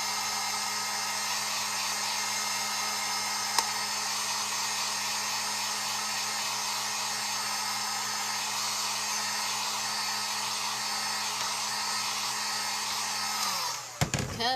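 A hair dryer blows on a handmade reversible fall shelf-sitter craft, a loud steady whirring drone that runs unbroken for about fourteen seconds and then cuts off abruptly.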